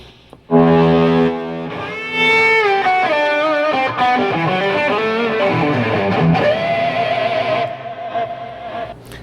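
A distorted electric guitar plays a lead line with long sustained, bending notes, loud and singing, fading out near the end.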